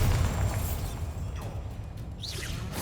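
Bombarda explosion spell in Hogwarts Legacy, a muffled booming burst with rushing whooshes and a scattered shattering tail, followed by a brighter magical swish near the end.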